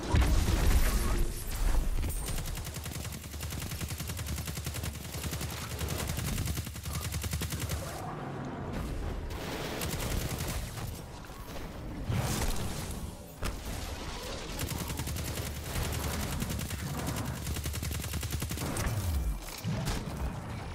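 Gunfire in the video game Destiny 2: rapid bursts of automatic shots and booming blasts stack up densely across the whole stretch, loud and continuous.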